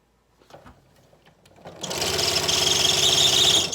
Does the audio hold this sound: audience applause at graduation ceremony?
no